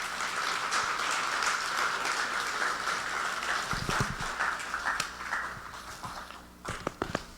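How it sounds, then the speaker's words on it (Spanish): A church congregation applauds to welcome the preacher Hermano Abel Ramírez: a steady wash of clapping from a hall full of people that thins after a few seconds into scattered claps and thumps. "quiero que le recibamos con un fuerte aplauso"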